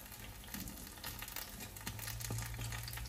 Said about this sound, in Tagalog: Kasi tatalsik yung mantika.